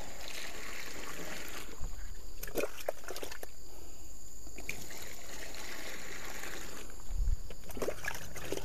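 Rainwater pours into a plastic barrel at an organic garden, a steady trickling, splashing flow that stays fairly soft throughout, with a few brief louder splashes and no talk.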